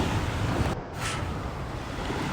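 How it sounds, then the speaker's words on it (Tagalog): Big waves breaking on the beach at Old Sarah Beach Resort in Cotabato City, a steady loud wash of surf mixed with wind buffeting the microphone, with a brief dropout partway through. "Sobrang laki ng mga alon."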